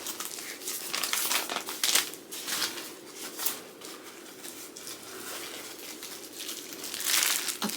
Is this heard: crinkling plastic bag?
yes